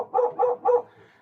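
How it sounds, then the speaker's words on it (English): A dog barks three times in quick succession at a car coming up a driveway, the barks close and fairly loud, followed by a brief quieter trailing sound. "This is my dog's greeting to every car that's coming up the driveway."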